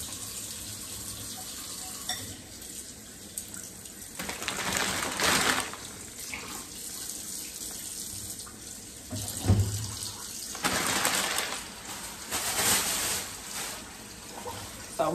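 Tap water runs into a kitchen sink while salmon is washed under it, a soft steady stream that swells into louder gushing splashes several times.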